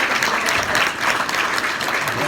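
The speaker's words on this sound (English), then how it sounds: "Let's give all the ETTs a round of applause and congratulations to all the executive team trainers." Loud, close applause from an audience congratulating executive team trainers, a thick continuous burst of clapping throughout with a faint murmur of crowd beneath.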